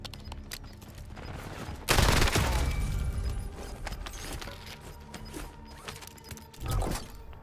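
Heavy gunfire in Call of Duty Warzone at Verdansk: scattered shots, then a loud sustained volley near two seconds that fades into further reports and a sharp late burst, no talk.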